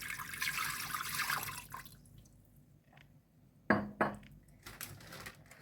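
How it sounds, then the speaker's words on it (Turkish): Water pours into a pot with a splashing rush for a couple of seconds, followed by a few light clinks and drips in a quiet kitchen. "2 su bardağı su ekliyoruz."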